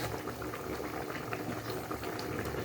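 Koi fish broth bubbling in a pot, a soft continuous simmer of popping bubbles, close and fairly quiet, with no talking.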